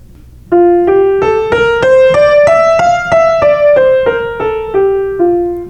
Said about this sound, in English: I might think I'm going to practice crescendo to the top and diminuendo to the bottom